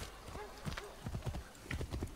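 In the video game Assassin's Creed 3, horse hooves clip-clop in an uneven, plodding rhythm at moderate loudness, with a brief whinny-like tone mixed in near the start.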